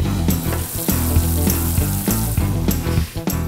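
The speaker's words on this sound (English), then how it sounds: "It's just me at the stove making caramels." Caramel bubbling and sizzling in a pan on the stove, made in a small handcrafted batch; a steady, close frying hiss with intermittent louder crackles and stirring knocks throughout.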